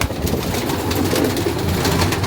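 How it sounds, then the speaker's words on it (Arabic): Pigeons coo steadily in a low, throaty murmur close by, continuous and moderately loud under a rustling background, with no talk. "حمام دي قاعدة تهر هر مش طبيعي"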